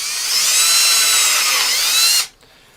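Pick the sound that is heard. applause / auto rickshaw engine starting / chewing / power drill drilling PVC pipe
power drill drilling PVC pipe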